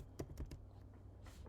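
Quick keystrokes tap on a computer keyboard, a few close soft clicks in a short burst, then a pause and one more faint press, with no talking.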